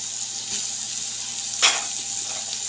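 Chicken with carrots and capsicum frying in a pan, a steady soft sizzle with a brief louder burst of stirring midway.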